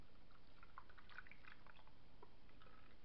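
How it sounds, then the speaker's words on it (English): Quiet sauce pouring over pheasant and quail, with small gurgles and drips, fairly close, over a faint background hiss. "feel free to pour sauce throughout the whole thing here."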